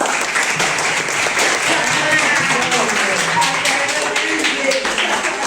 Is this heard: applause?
yes